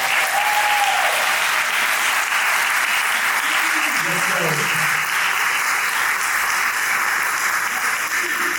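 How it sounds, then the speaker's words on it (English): An audience at a high school athletic hall of fame induction ceremony in a hall claps in a loud, sustained round of applause, with a voice briefly audible over it. "please, round of applause as you come and receive your plaque"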